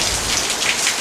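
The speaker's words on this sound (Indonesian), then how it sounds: "Hujan apa ini?" Steady rain hisses and patters on a surface, an even, dense wash of drops with no voices.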